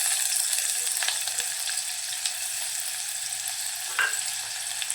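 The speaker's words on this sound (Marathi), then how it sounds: "तो घालूया फोडणीला." Finely chopped medium onion and crushed garlic sizzle in hot oil in a tempering for a spicy Malvani crab curry, a steady close frying hiss with occasional stirring scrapes.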